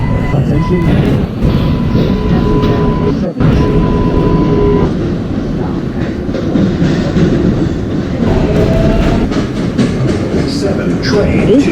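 A 7 train bound for 34th Street Hudson Yards runs on rails in a Roblox game, with continuous loud rumbling and rhythmic clickety-clack, a brief dropout partway through, and occasional tonal squeals from the wheels and motors.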